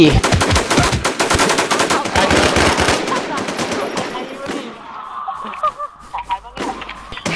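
Rapid automatic gunfire from the video game Infestation rattles loud and close in dense bursts, then thins to scattered shots over game noise, with voices briefly audible.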